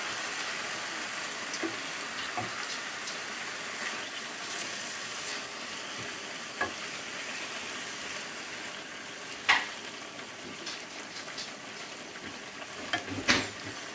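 Beef tips with garlic salt and soy sauce stirred in a hot pan, a soft continuous sizzle broken by occasional scraping clicks of the utensil, with no talk.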